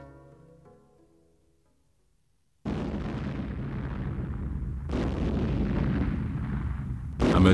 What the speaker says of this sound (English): Amid deafening explosions